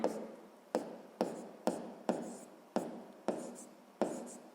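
Pen or marker writing out a sixth-grade math problem about oil in tanks, a series of seven or eight distinct scratchy strokes, each starting sharply then trailing off, close and fairly quiet with no talk.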